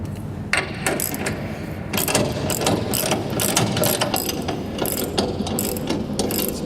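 A ratchet tightens the chain on a bin paddle sweep, giving steady rapid clicking that runs on without a break at close range. Faint mechanical rattles sit underneath.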